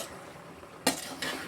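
Egg pasta stirred in a pan over a low, faint sizzle, with two quick scraping strokes of the spoon against the pan in the second half.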